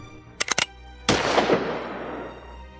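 A gun fires during practice: three sharp shots in quick succession, a brief pause, then a louder blast whose echo fades slowly, with no talking.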